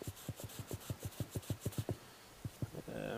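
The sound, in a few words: rubbing a metal relic, maybe pewter, to shine it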